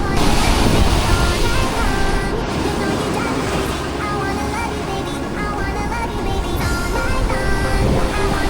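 Ocean waves and surf wash steadily onto a beach on a sunny day, a loud, continuous broadband roar with some wind buffeting the microphone, while a voice speaks intermittently in the foreground.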